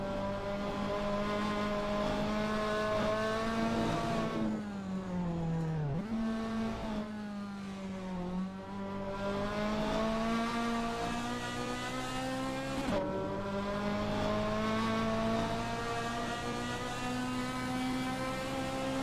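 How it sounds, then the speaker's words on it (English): A racing video game GT car on the Nürburgring takes the Vidal chicane during a sprint qualifying session, its engine droning loudly and steadily, dropping in pitch as it brakes into the turn and rising again through the gears. "Costo is expertly commanding that car through Vidal chicane."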